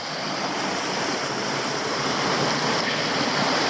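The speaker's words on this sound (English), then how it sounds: "I'm pretty sure I'm at the top of the falls now, at the uppermost little drop." Steady, loud rush of falling water at the top drop of a Tasmanian waterfall, a continuous broadband roar with no breaks or voices.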